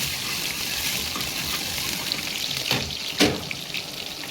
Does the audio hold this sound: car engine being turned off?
no